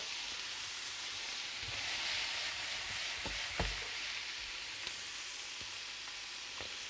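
Butter sizzling in a frying pan while cooking chanterelle mushrooms, a soft continuous fizz with a few faint clinks and taps of the pan, quiet and without speech.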